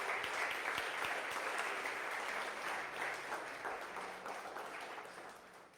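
A church congregation claps together as an offering to God during a Spanish-language sermon, dense sustained applause filling the room and slowly tapering toward the end.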